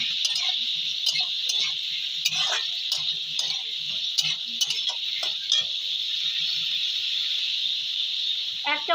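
Onion pieces frying in oil with mutton fat are stirred in a pan: a steady sizzling hiss runs throughout, broken by light scraping and tapping of the spoon against the pan.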